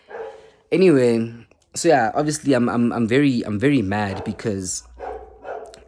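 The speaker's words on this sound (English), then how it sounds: "Excuse my dog. He likes to bark." A pet dog barks and yips in short bursts close by, mixed with and partly under someone talking loudly.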